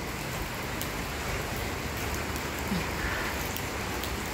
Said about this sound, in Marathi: कसला पाऊस आहे जोरात बघा, मुसळधार